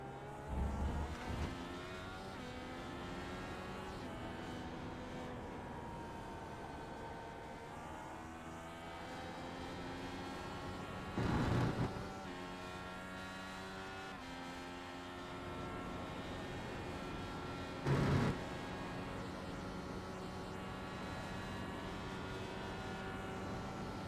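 A race car at Road America is heard from a distance as its engine revs and the driver short shifts, giving a steady harmonic drone with rising and falling pitch and a few brief louder bursts.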